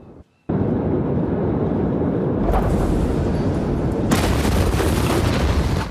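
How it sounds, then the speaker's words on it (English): Massive ammonium nitrate explosion at the port of Beirut, heard as a sustained loud roaring boom that swells and deepens after a brief gap, with rumbling blast noise filling the whole stretch and no talk. "you can see white flashes, what appear to be fireworks, going off before the massive explosion."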